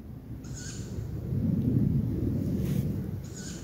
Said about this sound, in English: the squeaky thing is a juvenile tawny owl